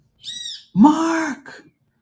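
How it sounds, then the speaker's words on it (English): A bird calls loudly from nearby trees, giving two or three harsh, drawn-out squawking cries in quick succession with no talk over them. "That bird's so annoying."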